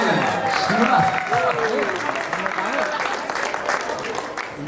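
An audience at a homecoming celebration with a live band applauds, a continuous mid-distance clapping under someone speaking over it.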